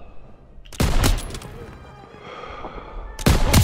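Gunfire in the World War II shooter game Call of Duty WWII: two loud, dense bursts of shots, one near the start and one at the end, with a quieter rumbling battle ambience and faint voices between them.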